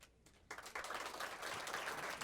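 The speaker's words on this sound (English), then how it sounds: "So a round of applause to our graduates" Audience applause for graduates at a graduation ceremony, a steady wash of clapping that starts softly and swells at about half a second, then holds at an even, dense level to the end.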